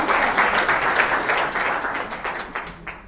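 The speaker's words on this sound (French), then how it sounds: "vous pouvez l'applaudir" Audience applauds a participant who has just returned to their seat during an internet business talk, producing a dense, steady wash of clapping that carries on for about three seconds.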